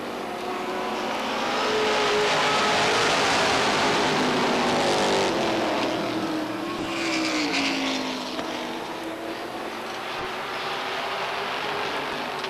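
Stock cars roaring around the oval at Beech Ridge Motor Speedway during a 10-lap qualifying heat: a loud, continuous pack of engines with rising and falling pitch as cars sweep past, sustained throughout with no talk.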